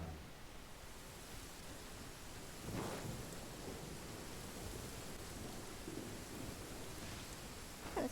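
Steady broadband rain hiss in the video game Genshin Impact, a continuous even wash throughout with a couple of faint brief swells, no talking.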